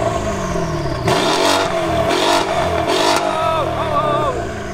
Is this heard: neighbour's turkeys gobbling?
no